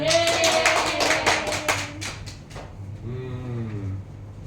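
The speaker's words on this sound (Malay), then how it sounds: "Okey, berikan tepukan." Classroom applause from a group of students: a burst of scattered hand clapping with voices mixed in, fading after a couple of seconds into quieter murmuring and a short vocal sound.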